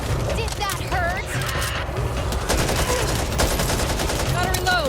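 An RPK light machine gun fires in Back 4 Blood in rapid, sustained bursts that run throughout, mixed with other game sounds and a voice talking.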